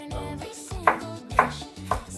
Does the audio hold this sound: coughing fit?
no